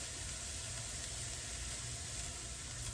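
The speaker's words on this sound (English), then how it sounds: "I'm not going to saute them much, just to, you know, soften them up just a little bit" Small pieces of green pepper sauté in a pan with bits of smoked sausage, a steady soft sizzling hiss that stays faint and even throughout, with no talk over it.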